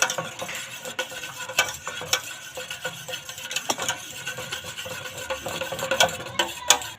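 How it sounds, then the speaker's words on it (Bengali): Orange peel paste being stirred into melted soap base in a pan, with irregular scraping and clinking strokes of the spoon over a faint bubbling hiss, close and continuous with no talking. "এবার কমলা লেবুর পেস্টটা দিয়ে দেব ভালো করে মিশিয়ে নেব এইভাবে"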